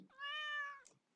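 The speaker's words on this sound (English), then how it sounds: "There's the kitty." A single drawn-out cat meow from the video game Stardew Valley, clear and close, rising then fading over about a second with nothing else around it.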